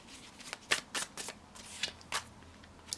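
Tarot cards being shuffled by hand during a pick-a-card reading: several sharp riffles and snaps at an uneven rhythm, close by, with no voices.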